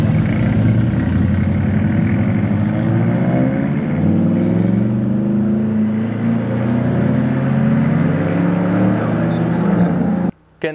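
A Nissan Z with power adders roars past in a loud, sustained flyby, its exhaust tone rising and falling for about ten seconds before cutting off abruptly near the end.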